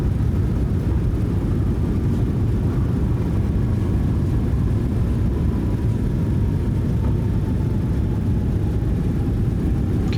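Airliner engines roar as thrust reversers deploy during the landing rollout in a flight simulator game, a steady loud low rumble with a faint descending whine, sustained with no talk.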